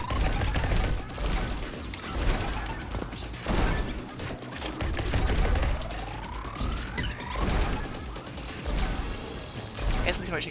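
Gunfire in the Neon White video game as demons are shot, with rapid bursts of sharp shots and mechanical clatter, plus a rising whoosh, under a person talking throughout.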